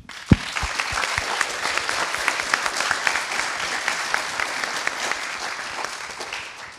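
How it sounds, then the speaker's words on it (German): An audience at a youth hackathon event in Cologne breaks into steady applause, a dense wash of many hands clapping that starts abruptly with a few sharp claps and continues evenly to the end. "Auch an der Stelle schon mal ein großes Dankeschön und einen großen Applaus"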